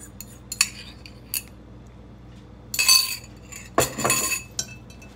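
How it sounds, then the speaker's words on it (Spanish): A utensil clinks and scrapes in a bowl while keto coconut cake batter made with almond flour is mixed, quiet bursts of metallic chinks and stirring separated by near-silence. "Vamos a mezclar."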